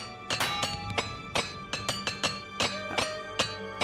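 Sharp metallic clinks of a repair hammer striking armor in Oblivion Remastered, a steady irregular series of ringing taps close and clear, with no voices.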